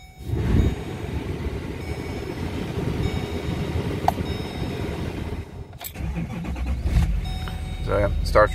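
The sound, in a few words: 2011 Chevrolet Silverado 2500HD 6.6L Duramax diesel starting up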